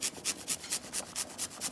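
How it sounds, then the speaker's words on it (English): A large garlic clove is grated for beef tripe soup in quick, even strokes, each rasp close and crisp in a steady rhythm with no talking. "So now I'm gonna grate 1 large clove of garlic into the soup."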